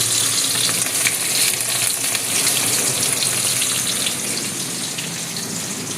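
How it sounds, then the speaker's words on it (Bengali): Rohu fish fries in a pan, producing a loud, steady, close sizzle with continuous crackling spatter and no voices. "মাছ ভাজা করছি।"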